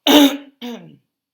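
Two quick, close throat clears, the first louder and rougher, the second shorter, followed by silence.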